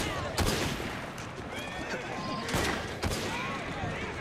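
Pistol gunfire in Assassin's Creed Syndicate, set in a Victorian city street, cracks out in a few sharp, separated shots over busy game ambience, with voices talking underneath.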